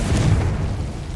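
A Confringo blasting spell exploding in the video game Hogwarts Legacy, one short, loud, deep booming burst with a rumbling low end that fades quickly.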